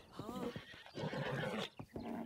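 A horse in The Legend of Zelda: Breath of the Wild gives a loud, close whinny with a rising then falling neigh, followed by snorting calls, with hoof clip-clop faintly underneath.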